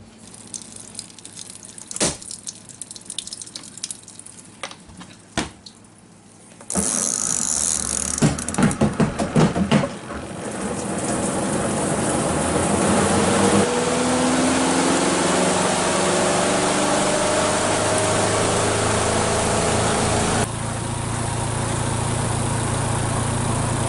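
Water runs through a new spin-dry washing machine in a fifth-wheel trailer, starting with scattered drips and clicks, then a sudden strong gushing rush with a motor hum that holds steady and loud.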